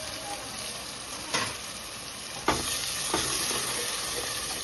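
Ground shallot paste frying in a pan for country chicken curry, with a dense, continuous sizzle broken by a few louder stirring scrapes, heard close up with no talk.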